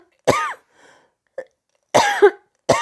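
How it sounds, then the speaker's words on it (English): A person clears their throat several times in short, sharp, raspy bursts separated by brief silences, close and loud, with no talking. "I have been clearing my throat throughout all this"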